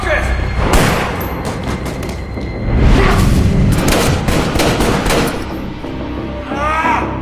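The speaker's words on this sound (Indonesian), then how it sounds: "Garrett berhasil menembak Marcus, namun si pengawal rupanya punya kekuatan" Gunshots ring out in an action film scene, heavy booming blasts that hit in bursts over several seconds, mixed with loud rumbling effects and a voice speaking.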